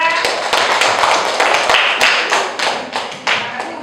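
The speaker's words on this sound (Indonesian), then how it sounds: "Tepuk tangan untuk kelompok 2." A classroom group of people claps for a student team, sharp uneven hand claps and taps close by, thinning out and fading in bursts toward the end.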